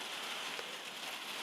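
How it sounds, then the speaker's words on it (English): Steady rain falls in a dense, even hiss with no distinct drops standing out, continuous throughout the short stretch. "as the rain starts again"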